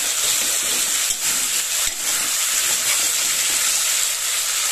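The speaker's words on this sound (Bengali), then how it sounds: "এতে দিয়ে দিলাম কিছুটা টমেটো আর মটরশুঁটি দিয়ে ভালো করে কষিয়ে নেব।" Tomato and peas sauté with spices in a pan for a vegetarian jackfruit and pea curry, giving a constant, even hiss of sizzling with faint stirring shuffles, close and fairly loud throughout.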